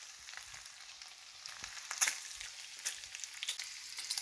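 Bacon sizzles and crackles steadily in a pan, with soft scattered pops over a continuous hiss, heard close and quiet with no talking.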